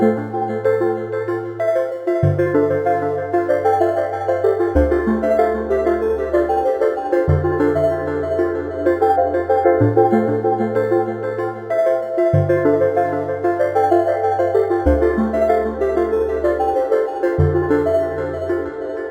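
A bright synth melody repeats through a fully wet dotted-eighth tape delay, with echoing notes over a stepping bass line, steady and loud, alone with no voices.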